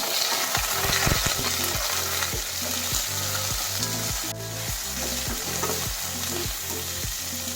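Tomato sautéing with onion and garlic in a pan for a bottle gourd and shrimp dish, a steady close sizzle and frying hiss with regular stirring scrapes, no talking.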